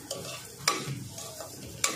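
Grated fresh coconut with sugar is sautéed in a pan for kheer, a quiet soft sizzle broken by a few sharp spatula scrapes and taps.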